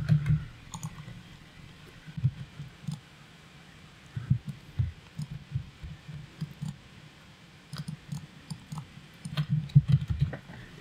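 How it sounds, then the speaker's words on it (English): Computer mouse being clicked at a desk, scattered sharp clicks in small irregular bursts over a quiet room background, with no talk. "So when I click this, it opens up Chrome."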